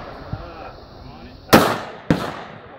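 Two sharp, loud precision rifle shots crack out about half a second apart at a Steel City precision rifle match on steel targets, each followed by a short decaying echo, over quiet outdoor background.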